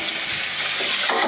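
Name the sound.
water rinsing out a cookware pot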